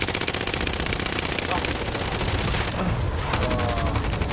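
Video game gunfire pours out as rapid automatic bursts, loud and close, barely pausing across the whole stretch, with a voice faintly underneath.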